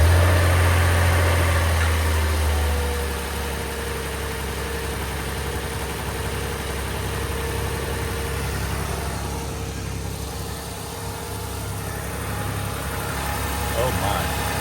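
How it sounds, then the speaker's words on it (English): A Lexus RX350 with an oil-spraying fault is started and left idling, a steady low engine hum close by that runs through the whole stretch with a brief higher tone at the start. "I'm gonna just start the engine now and see if it starts spraying oil again."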